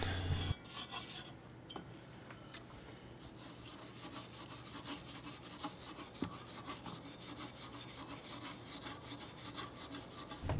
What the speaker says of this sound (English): You just start scrubbing and you work your way around the blade.